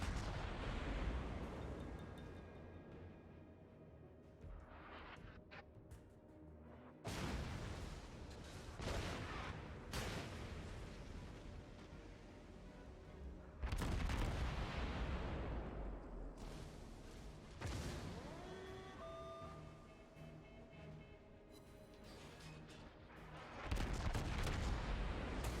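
Naval artillery fire from World of Warships, in loud broadband booming salvos at irregular intervals over a continuous rumbling battle backdrop, with no voices.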